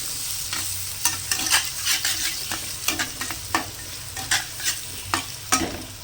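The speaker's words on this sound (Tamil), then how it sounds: "இப்போ தாளிச்சு விட்டுக்கலாம்" Spices tempering in hot oil for egg rice: a close, steady sizzle and crackle with repeated scraping stir strokes punctuating it every half second or so, no voices.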